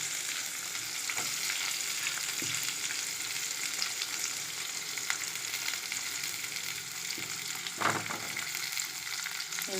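Mustard seeds, lentils, dried chili, curry leaves and onion frying in hot oil, a steady close sizzle and crackle with occasional soft stirring knocks and a louder spatter near the end.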